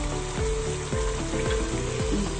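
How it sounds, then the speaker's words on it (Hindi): Tinda gosht fries in plenty of oil in a pan, a loud continuous sizzle broken by several rhythmic scraping stirs close by. "इसको अच्छे से हम भूनेंगे"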